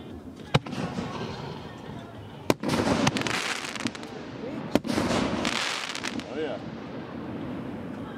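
Fireworks canister shells fired from a raft on Bass Lake, with three sharp launch thumps spaced a couple of seconds apart, each followed by a long crackling, hissing burst amid wind and outdoor noise.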